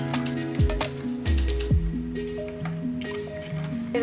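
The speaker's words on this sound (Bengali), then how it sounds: "এবার দই দিচ্ছি" Thick doi yogurt is spooned onto a dessert, giving a few soft close squishes and wet plops with quiet clinks in between.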